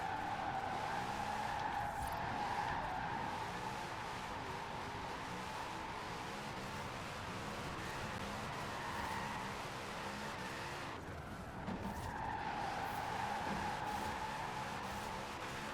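A car drifting in the racing video game Forza Horizon 4, engine droning steadily with long tire squeal held throughout, briefly dipping around the middle before resuming.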